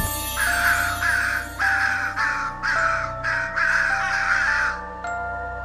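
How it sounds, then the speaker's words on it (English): Crows caw repeatedly at night in a steady series of harsh, loud calls, about nine in a row with short gaps, over a low background drone. "The night crows call."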